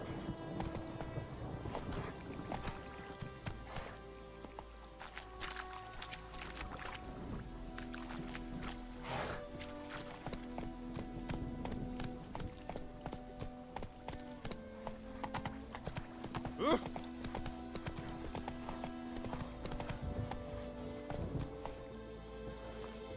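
A horse gallops in The Witcher 3 video game, its hooves beating a steady, rapid clip-clop rhythm that runs continuously, moderately loud, with faint ambient sounds beneath.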